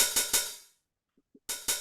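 Open hi-hat sample triggered from an Ableton drum rack: two quick bright metallic hits ringing out and decaying, a short gap with faint soft ticks, then two more hits close and clear.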